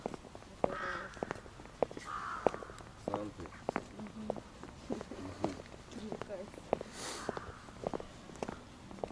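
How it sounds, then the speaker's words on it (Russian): Crows cawing outdoors in Diveyevo, with several scattered caws at moderate distance under ongoing conversation and footsteps. "Вот это вороны."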